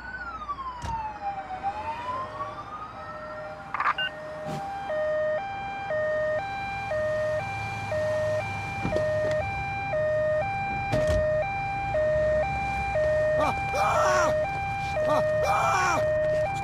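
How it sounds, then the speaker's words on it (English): Ambulance siren in the Police Simulator video game, a loud two-tone wail cycling steadily from start to finish after an opening rising sweep, with brief noisy bursts and some background sounds beneath it. "An ambulance has been dispatched to your current location."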